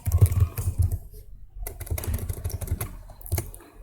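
Fast, close clicking of a computer keyboard as code is written, with bursts of keystrokes, a short pause partway through, then steady typing again, no voices.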